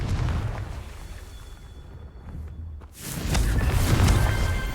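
A Confringo blasting spell explodes in the Hogwarts Legacy video game with a heavy, rumbling boom. A quieter stretch and a brief drop come before a second loud, sustained burst that rolls on to the end.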